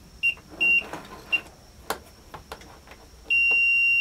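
Short electronic beeps from a continuity tester probing wires of a 3-way light switch circuit, a few brief chirps followed by a sustained tone, amid light handling clicks.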